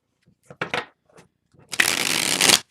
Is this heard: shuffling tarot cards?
yes